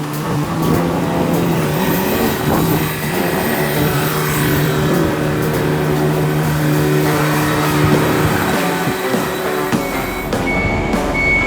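A hot-wired old trayback truck engine runs loud and close, a steady rough idle with droning harmonics and slight revving before it cuts out near the end.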